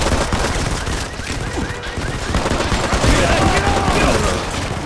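Steady automatic gunfire and scattered shots from the Modern Combat 5 video game fill a busy, loud firefight during an escape mission.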